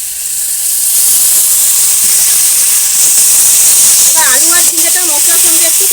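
Fried potato and ridge gourd tipped into hot, oil-releasing spice paste for a vegetarian poppy-seed dish, giving a loud, steady sizzle and hiss that runs throughout, with a brief clatter near the end.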